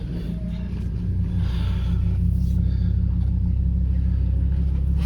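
A 2006 Ford F250 4x4 with a V10 engine idles steadily just after startup, giving a close, continuous low rumble with a smooth, even tone and no ticking.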